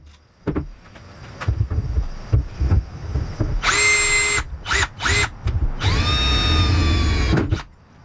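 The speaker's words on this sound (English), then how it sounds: "I guess I gotta drill more holes" A power drill whines through metal while fitting a hood vent on a Nissan 300ZX, in several bursts, a long run, two short ones, then another long one, with scattered clanks and handling noise between.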